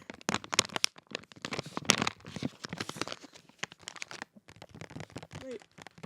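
A bag of Vital Source Nutrition Feminine Balance gummies is crinkled and squeezed by hand close up, giving bursts of dense crackling plastic rustle with a brief pause near the end.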